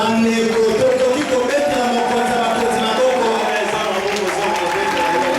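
Church congregation at a Sunday service cheers and applauds, with loud continuous clapping and overlapping shouts and voices close by, and sustained vocal tones running through the din.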